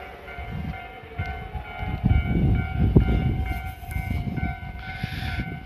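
A Joban Line electric train rumbles past close by at a level crossing near Kita-Senju Station, with a steady crossing-bell tone ringing throughout and a brief horn-like sound near the end.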